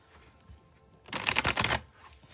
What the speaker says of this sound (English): I'll shuffle till the deck feels ready, then I'll cut and we'll deal right off the top.